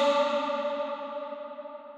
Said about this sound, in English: And as you can tell, very long reverb.